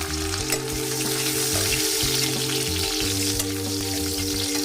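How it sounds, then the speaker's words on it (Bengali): Long-cut potato strips drop into hot mustard oil in a wok and fry with a steady, dense sizzle and crackle, close and continuous, with no one talking. "কড়াইতে সর্ষের তেল গরম করার পর দিয়ে দিচ্ছি আমি লম্বা করে এইভাবে কেটে রাখা আলু।"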